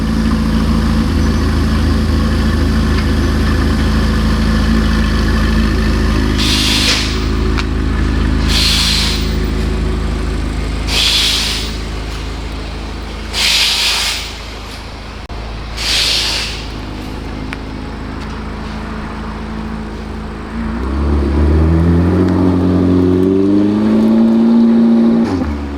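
A loud Corvette C8 Z06 sports car engine idles, then gets five sharp throttle blips in a row, before climbing into a rising, throaty rev near the end.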